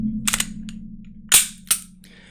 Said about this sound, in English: I can easily just drop my mag.